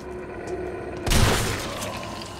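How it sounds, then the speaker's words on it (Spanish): A single loud, booming shotgun blast in Resident Evil 3 (Raccoon City demo), breaking a quiet, steady background and trailing off over the next second. "un momento para probar la escopeta"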